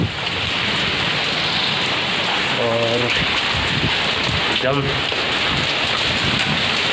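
Heavy rain with snowfall hisses in a dense, constant roar with gusting wind in Jalalpur, Uttar Pradesh, and a voice briefly speaks underneath.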